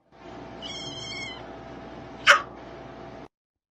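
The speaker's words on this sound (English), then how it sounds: "A cat!" A cat meows in a drawn-out, wavering call near the start, followed by a sharp brief noise, over a low steady background hum.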